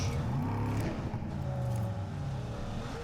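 A vehicle engine hums steadily and close in PUBG Mobile, a constant low drone that neither rises nor falls, with no talking.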